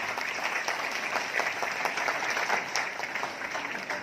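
A crowd applauding steadily, dense clapping that holds at an even, fairly loud level the whole time.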